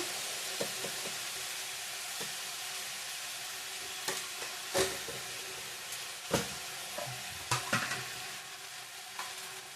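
Spices with turmeric and salt frying in a pan for khichuri, a constant soft sizzle broken by occasional scrapes and taps as the mixture is stirred, close and fairly quiet.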